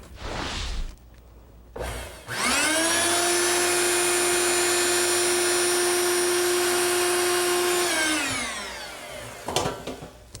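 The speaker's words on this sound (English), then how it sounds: "a vacuum cleaner is the best thing I know to do this" A vacuum cleaner motor cleaning a clothes dryer duct whines up to full speed, runs steadily with a high harmonic drone for several seconds, then winds down; close and loud.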